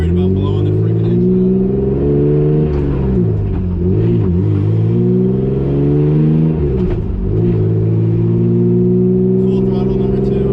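Turbocharged BMW E36 engine pulling hard at full throttle on a street, a loud sustained mid-pitched roar with rising and falling harmonics as it revs through gears, close and continuous for the whole stretch.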